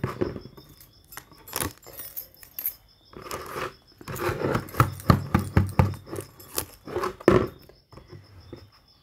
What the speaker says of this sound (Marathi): हे कत्तरी पण घ्यायचं कापायला चिकटपट्टी.